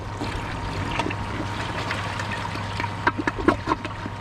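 A Kohler Class 5 toilet flushes with a continuous watery rush and trickle, a low hum underneath and a few gurgling splashes toward the end; no talking.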